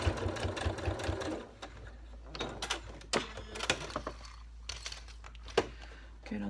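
A sewing machine punches its needle through two layers of mesh and four layers of fabric for a mesh bag, giving a brief burst of stitching followed by scattered clunks, clicks and handling noises.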